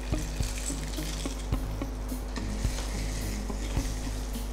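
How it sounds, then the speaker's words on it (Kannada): Pasta frying in oil in a pan for a corn pasta dish, a steady close sizzle with regular stirring clicks of a utensil against the pan, with no talking. "ಸ್ವಲ್ಪ ಫ್ರೈ ಮಾಡ್ತೀನಿ."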